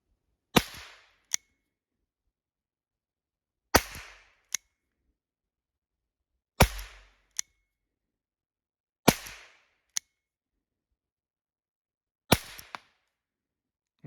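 Five sharp, loud gunshots from a small Flobert revolver fired at 20 metres, spaced a few seconds apart, each followed by a brief metallic click and otherwise silence.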